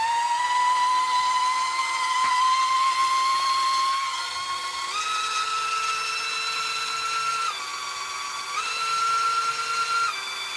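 A Misshappy cordless electric BBQ grill brush runs with a steady high-pitched motor whine, stepping up and down in pitch a few times as the load changes, close and continuous.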